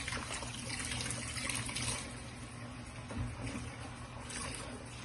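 Warm soapy water in a bucket sloshes and trickles continuously up close, a dense, steady liquid wash with no talking.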